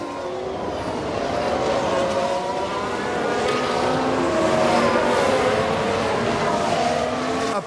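A Ferrari Formula 1 car races in the F1 Manager video game, its high engine whine rising and shifting in pitch as it passes, loud and continuous with no talking.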